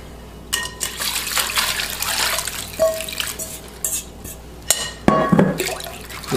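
Water pours and splashes as fresh fettuccine and ice water are drained in the kitchen, a running wash with drips, a few clinks of ice and a pot knock near the end.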